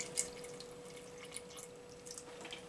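Apple cider poured over chopped rhubarb in a cooking pot, faint trickling and dripping liquid with small splashes, quiet and close, no voices.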